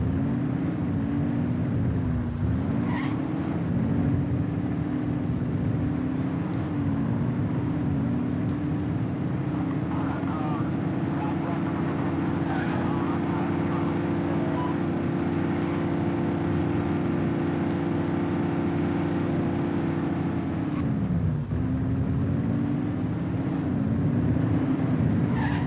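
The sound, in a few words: cars driving in The Precinct video game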